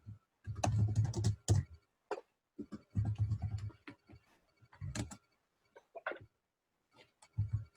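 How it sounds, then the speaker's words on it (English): Keyboard typing in quiet bursts of quick clicks, with a few sharper taps and pauses between runs, close and fairly soft. "I know you're typing these notes"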